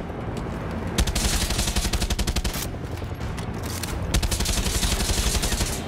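Rapid automatic gunfire in the video game Far Cry 6, dense bursts of shots rattling continuously with a brief pause midway, loud and close.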